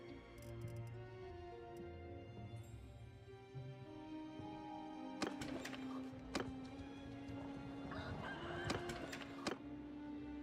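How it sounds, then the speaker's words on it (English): A rooster crows in a fantasy medieval game world, the call rising out of a steady background of game music and ambient sound, with sharp clicks and taps scattered through the later seconds. "As soon as you hear the crow call, then you know that it's time to do tournaments."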